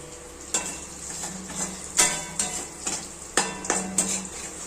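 Shredded potatoes frying in hot oil for jhura aloo bhaja, a steady sizzle broken by several sharp metallic scrapes and taps of a spatula stirring in the pan, close and clear with no talk.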